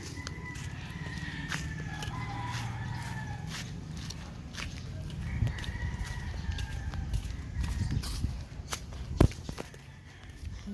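Rooster crows ring out a couple of times at moderate distance while footsteps and shuffling handling noises come close up, with sharp knocks and clatters scattered through.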